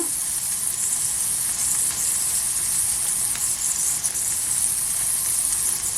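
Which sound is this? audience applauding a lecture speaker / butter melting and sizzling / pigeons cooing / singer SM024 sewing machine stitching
butter melting and sizzling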